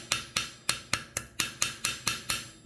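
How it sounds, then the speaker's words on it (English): Hammer blows beating a metal fishing spoon lure into shape, about ten sharp, evenly spaced strikes close up, with no talk over them. "So hammer it till you like it"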